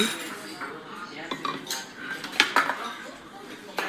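Dishes and cutlery clink in a restaurant as bowls are set down, with scattered sharp chinks and clatters over a soft background murmur of voices.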